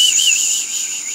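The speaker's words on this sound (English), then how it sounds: "That's a weird whistle." A shrill, sustained whistle in a video game rings out loud and steady for about a second, warbling slightly in pitch before cutting off.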